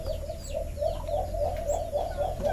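An alimokon dove chick chirping, its short high calls repeating quickly and steadily over a constant low background hum.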